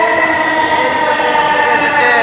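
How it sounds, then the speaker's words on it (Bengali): A Dhaka metro rail train pulls in, its steady loud rumble and rolling hum continuous throughout, close to the platform, with no speech. "আমার মাশাল্লাহ ট্রেন চলে আসছেন উত্তর দিক থেকে"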